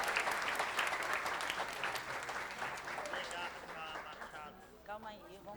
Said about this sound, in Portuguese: palmas para Ian